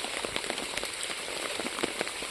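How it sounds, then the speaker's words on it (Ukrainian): Steady rain falls outdoors on a grey, overcast day in early September, a close, continuous patter of drops on surfaces with no voices. "Як бачите, у нас знову дощ, знову продовжується дощ."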